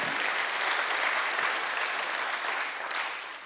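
Steady applause from a church congregation during a Sunday worship service, a dense wash of clapping that holds for several seconds before tapering off.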